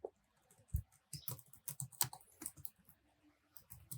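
Keys tapping on a computer keyboard while entering a formula into an Excel spreadsheet, a quiet, irregular run of light clicks and presses close to the microphone.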